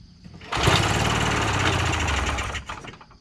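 A vintage Polaris snowmobile engine that sat unused for 20 years fires up and runs roughly for about two seconds, a loud, close, buzzing two-stroke rattle that then dies away.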